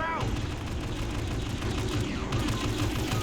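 Rapid rifle fire in Star Wars Battlefront, a dense run of loud repeated shots with heavy low rumble from surrounding battle, no talking.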